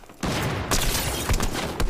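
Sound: gunfire exchange in video game Fortnite

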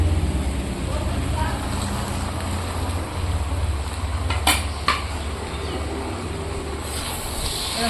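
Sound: stirring fried vegetables with coriander powder in a pan

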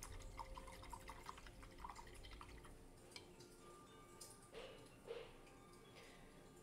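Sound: rinsing a paintbrush in water

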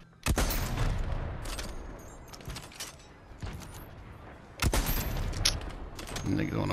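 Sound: sniper rifle gunfire in a video game

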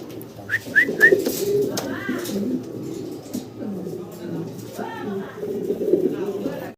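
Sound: pigeons cooing, white pair of Mundian fancy pigeons

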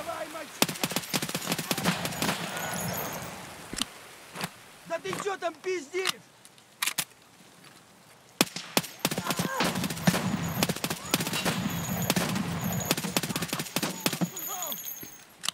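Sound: gunfire from a gun in the video game Escape from Tarkov

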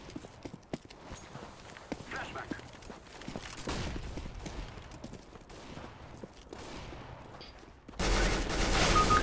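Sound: Negev machine gun firing in CS:GO video game

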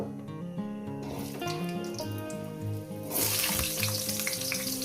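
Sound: potatoes frying in oil with dried chillies

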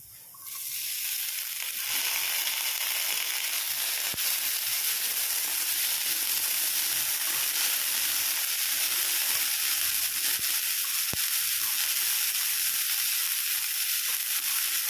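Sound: boiled green peas sizzling in a pan

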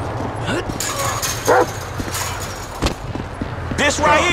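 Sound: dog barking in video game Grand Theft Auto V

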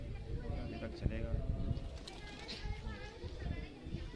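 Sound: kept pigeons cooing

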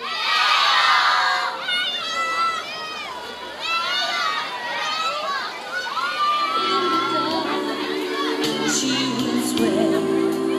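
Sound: students shouting a name together

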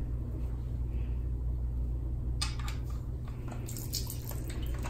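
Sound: makeup-stained water draining from a tiny washing machine

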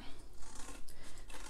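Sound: scissors cutting paper corner to corner

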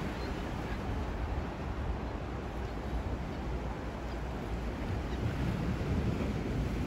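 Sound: water waves breaking at a pier waterfront

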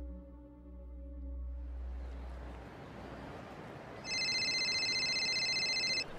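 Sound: cell phone ringing

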